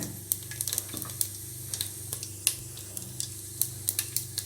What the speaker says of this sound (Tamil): எண்ணெய் காஞ்சதும் கடுகு பொரிஞ்சதும் ஜீரகம் போட்டுக்கோங்க.